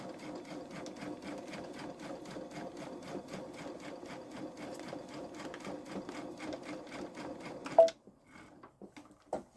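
A Babylock Solaris 3 sewing machine quilting a pumpkin pillow front runs in a fast, steady needle rhythm for about eight seconds, then stops abruptly, followed by a few faint clicks and handling sounds.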